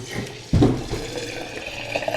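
Water from a tap gushes suddenly into a metal milk bucket being washed after milking, a splashing burst that settles into a steady running stream.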